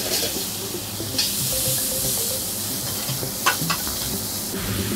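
A vegetable mix with shiitake mushrooms sizzling in vegetable oil in a saute pan, a dense continuous hiss with brief bursts of crackle as it is stirred, close up and with no voices.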